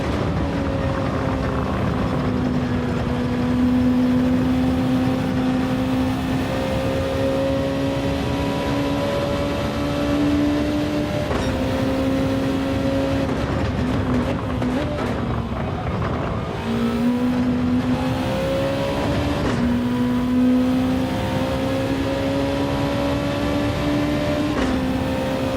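A race car in a racing video game driving through corners, its engine droning loud and steady with rising and falling pitch as it shifts and takes the bends, continuous for the whole stretch.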